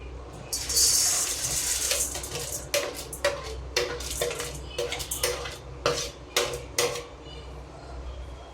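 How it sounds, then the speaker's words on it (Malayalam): Repeated metallic scraping of a spoon against a pan as urad dal is stirred and dry-roasted until brown, in an uneven rhythm of sharp clinks over a faint dry sizzle. "ഇനി ഇത് കരിയാതെ നമുക്ക് ഇളക്കി ഒരു ബ്രൗൺ കളർ ആവുന്നവരേക്ക്"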